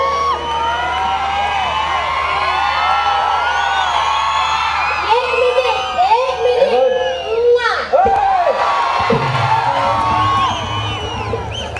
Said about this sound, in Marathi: उद्या म्हणजे आवाज निघणार नाही तोंडातून एवढे ओरडताय